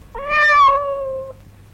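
A cat gives a single clear, drawn-out meow in a quiet house, close and fairly loud, with silence before and after.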